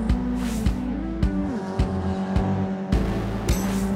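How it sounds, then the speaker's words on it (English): Go-karts able to reach 30 mph race on a cruise ship's deck track, with loud, close motor whines that rise and fall as drivers accelerate and corner, and sharp changes in pitch as karts pass. "These go-karts can go up to 30 miles per hour, and they do have dual go-karts and single go-karts"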